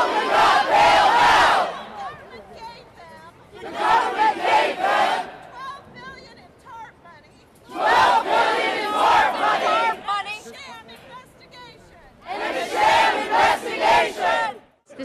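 A crowd of protesters against austerity and debt performs a mic check, chanting in loud bursts and echoing lines back in unison, with short pauses of quieter murmuring between each shouted phrase.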